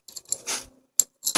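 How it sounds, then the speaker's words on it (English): Metal bolts clink and rattle as they drop into a bowl during an engine timing chain repair, several sharp bright jingles in quick bursts, close and fairly loud, with no one talking. "So I got this bowl that I'm going to stick all these bolts in."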